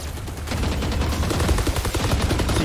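Rapid automatic gunfire in Counter-Strike, a loud, dense stream of shots that kicks in after a brief moment and keeps going without pause. There is no talking over it.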